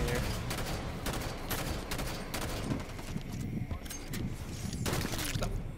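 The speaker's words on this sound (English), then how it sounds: "Let me sustain BR fire on that bastard." Battle rifle firing in Halo 5 on the Sandtrap map during a capture-the-flag match, repeated loud bursts of gunfire in quick rhythm over dense game noise, with a voice briefly under the shots.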